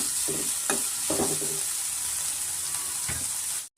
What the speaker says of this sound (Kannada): ಸ್ವಲ್ಪ ನಾವು ಫ್ರೈ ಮಾಡ್ಕೊಳ್ಳೋಣ ಆನಿಯನ್ನ